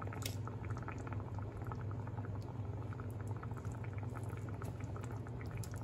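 Butter melting in a hot cooking pan for a cioppino-style whiting dish gives a steady, close bubbling sizzle with dense crackles over a low hum, holding even throughout with no voices.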